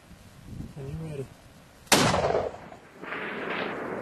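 A rifle shot fired at a bull elk on Colorado public land cracks loud and close, a single sharp blast decaying into rustling after a brief stretch of quiet voices.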